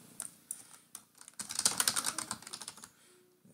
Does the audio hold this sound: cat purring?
no